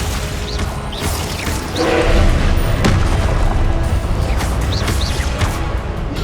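A Glacius ice spell cast in Hogwarts Legacy, sounding as a loud crackling, creaking burst with booming impacts over dense continuous game sound.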